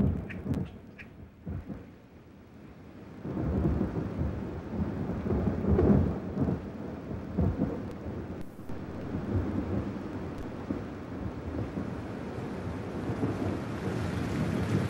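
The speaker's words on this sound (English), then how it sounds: "the drumroll of thunder" Deep, rolling thunder from a midsummer storm rumbles on and on beside a river, a low continuous roar that swells after a quiet start, with rain-like hiss beneath it.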